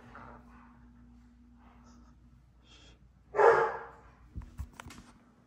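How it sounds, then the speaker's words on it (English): A single sharp dog bark stands out against a quiet room, followed by a few softer snorts and huffs. "Why is he barking at me?"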